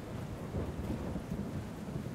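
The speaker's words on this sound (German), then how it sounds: "Deswegen Gewitter." Thunderstorm spell cast during combat in Might & Magic X Legacy: a steady low rumble of thunder with rain-like hiss, rolling continuously and fairly loud for a couple of seconds with no voices.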